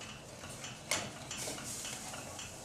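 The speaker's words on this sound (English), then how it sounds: "Lightly stir this cheese powder right into the queso." A spoon stirs cheese powder into a pan of queso dip, giving faint, soft scraping and light clinks, with one sharper utensil knock near the start.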